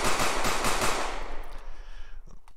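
Pistol fire in an Unreal Engine 4 game, a rapid burst of several sharp loud shots in quick succession, then a short decaying tail as the firing stops.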